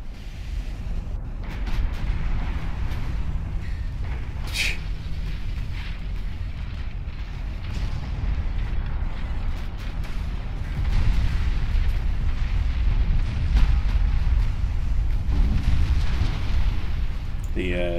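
Warship guns firing in Ultimate Admiral Dreadnoughts, with a battleship shelling enemy vessels at sea: a continuous heavy, roaring rumble of booming salvos and wind-like noise, loud and dense throughout.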